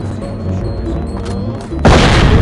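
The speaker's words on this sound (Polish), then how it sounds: "O, hukowy daje." Flashbang grenade going off in the video game SWAT 4. A loud, sudden broadband blast hits near the end and holds as a wide roar after steady game noise.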